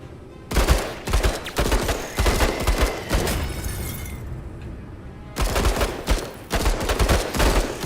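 Marines shooting in the tactical video game Menace: two heavy volleys of rapid, overlapping gunfire, loud and close, separated by a quieter lull with scattered shots.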